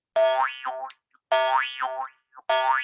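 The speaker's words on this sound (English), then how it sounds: "you push it against your teeth and hit the twanger." Three twanging notes from a jaw harp, each with a wah-like vowel sweep, separated by brief silences.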